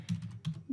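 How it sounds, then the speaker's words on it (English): A URL being typed on a computer keyboard: a quick run of three or four close, soft key clicks. "the first thing that you have to do is you have to type the URL"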